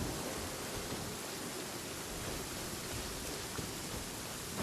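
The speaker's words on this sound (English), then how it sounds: "I love listening to the rain from the courtyard" Steady rain in a courtyard in Genshin Impact, a constant even hiss of falling water with no breaks, moderately loud and alone with no voices.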